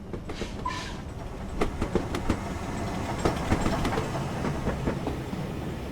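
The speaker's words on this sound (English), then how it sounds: "We see the windcutter train on the siding" A Windcutter train sits on a siding at a station in Train Simulator Classic, a steady rumble of rolling wagons with irregular clicks and clacks spread across the stretch, moderately loud with no talk.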